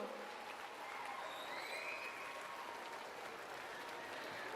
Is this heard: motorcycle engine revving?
no